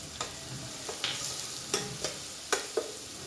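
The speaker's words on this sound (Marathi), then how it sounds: "मिरची तेलामध्येच परतून घ्यायची" Spicy green chillies stirred in hot oil in a pan: about six short scraping strokes of a spoon land at uneven intervals over a faint, low sizzle.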